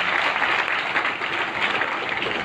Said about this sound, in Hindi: बहुत अच्छी बात, तालियां हो जाए